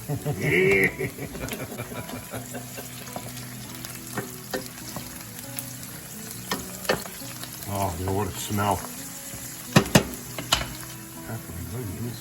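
Fresh basil hits a loudly sizzling pan of beef tripe for an Italian-style dish, with continuous frying hiss, stirring and occasional clinks of pan and utensils, while people talk over it.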